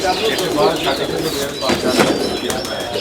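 Several dub pigeons coo repeatedly in low, throaty rolls close by, overlapping one another with scattered chirps, while a voice talks underneath.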